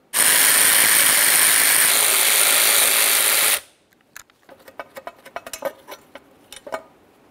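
A loud steady whir, like a power tool spinning, runs for a few seconds while 10mm bolts come off the valve cover bracket of a 2007-2013 Acura MDX 3.7L V6, then stops abruptly, followed by scattered metallic clinks and taps of parts.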